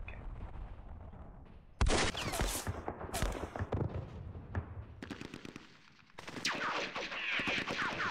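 Gunfire in the wargame Campaign Series Rising Sun: bursts of machine-gun and rifle fire crack in sharp clusters, with loud volleys starting abruptly, a brief lull, then another sustained rattling fusillade.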